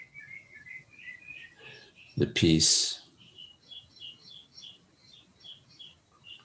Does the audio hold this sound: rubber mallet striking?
no